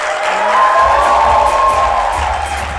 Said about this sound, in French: On va tout de suite l'accueillir avec un tonnerre d'applaudissements.